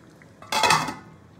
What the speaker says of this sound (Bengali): মাংসটা এবার ভালো করে নাড়িয়ে দেবো একটু।